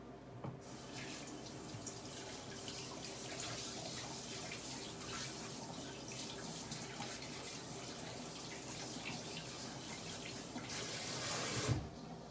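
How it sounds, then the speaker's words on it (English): A kitchen tap runs steadily as something sticky with molasses is rinsed under it, a constant gentle splash at moderate distance with a brief louder burst near the end and no talking. "Let me rinse this off because that just made a mess in the cabinet."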